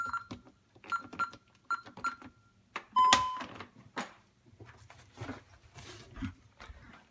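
Home alarm system keypad gives a series of short, evenly spaced electronic beeps while being disarmed at a front door, followed by one louder, sustained tone, then quieter handling and shuffling noises.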